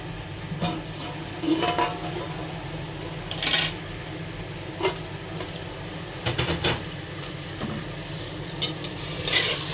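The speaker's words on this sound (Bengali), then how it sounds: "মশলাটা ভালোভাবে ভাজা ভাজা হয়েছে" Oil sizzles steadily as spices and green chilies fry in a pot for beef, with intermittent scraping and clinking of a spoon stirring against metal.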